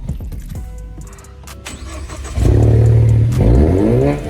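A remapped 2014 Volkswagen Jetta fires up close by with a starter crank and catch, then revs hard into a loud, rising engine roar that dips and climbs again.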